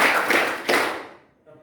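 A group clapping in unison in a classroom-style session, a few sharp, close claps running together in a short burst that then fades out.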